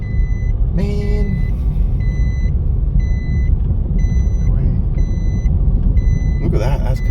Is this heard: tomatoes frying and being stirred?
no